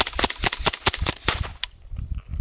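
Suppressed 6mm ARC rifle fired outdoors at a range, a rapid string of sharp, loud reports close together, then fading into quiet open-air ambience.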